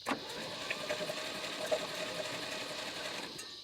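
A Tri-5 Chevy engine, sitting unrun for 36 years with oil poured down the cylinders, is cranked over by the starter, producing a steady whirring, rapid mechanical spin close by, alone for several seconds.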